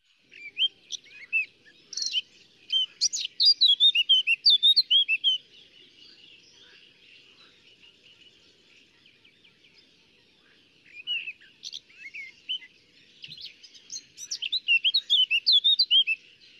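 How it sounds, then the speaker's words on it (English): Blackcap warbling song: rich, fruity phrases of rapid chirps and whistles in bursts, pausing midway and resuming, clear and fairly close with no talk. "let's play the lovely, the fruity kind of warbling song"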